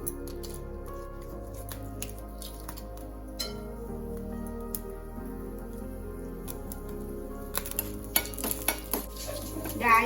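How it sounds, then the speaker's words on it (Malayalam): Dried red chillies fry in coconut oil for banana blossom thoran, giving a soft, steady sizzle. Scraping and stirring clatters run through it, and sharper utensil knocks bunch together near the end. "ഇനി ഇതിലേക്ക് 2 വറ്റൽമുളക് ഇട്ട് കൊടുക്കാം"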